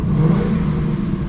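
Ford Mustang Mach 1 V8 engine revving with its exhaust set to quiet mode, a steady low rumble that swells briefly and settles, close and fairly loud with no talking.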